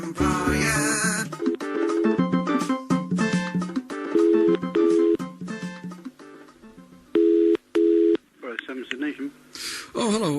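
Telephone dialing tones and line signals, steady tonal beeps in short repeated bursts alongside background music and a talking voice, ahead of a call to a prospective employer.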